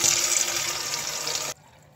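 Tap water pours into a KOIOS humidifier tank in a steady hiss and splash, close and loud for about a second and a half before cutting off abruptly into quiet.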